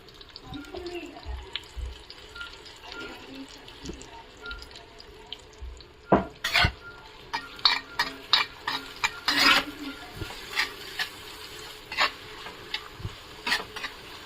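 Onions stirred in two ladles of hot oil in a pan, with a faint frying sizzle and a series of sharp, close scraping and clattering stirs that grow frequent in the second half.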